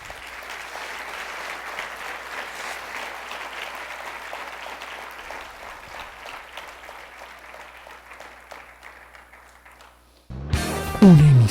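Congregation applauding at a Spanish-language church sermon, steady dense clapping that slowly fades over about ten seconds, then cut off by a sudden louder burst of radio station jingle audio.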